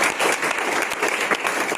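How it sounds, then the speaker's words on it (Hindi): An audience at an entrepreneurship training session bursts into applause, with dense, steady clapping from many hands that lasts a couple of seconds. "तालियां हो जाए।"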